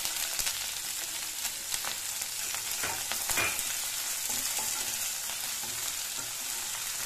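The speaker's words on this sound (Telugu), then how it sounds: "తర్వాత ఈ ఆనియన్ వేస్తానండి" Onion and green chillies fry in hot oil for a gongura sesame chutney, a dense, steady sizzle with occasional spatula scrapes and taps, close and continuous with no voices.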